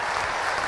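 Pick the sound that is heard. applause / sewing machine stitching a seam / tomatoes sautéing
applause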